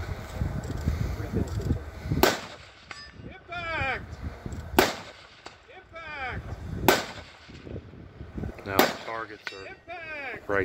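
Sharp pistol gunshots at an outdoor shooting competition ring out four times at spaced intervals, each a loud crack with a short echo, while people talk quietly between shots.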